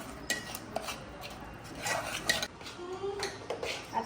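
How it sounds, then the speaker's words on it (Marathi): A spoon stirs biscuit chocolate cake batter in a bowl. It scrapes and clinks against the sides in an irregular rhythm, close and fairly clear, with no talking. "मी ह्याला चांगलं मिक्स करून घेतलंय"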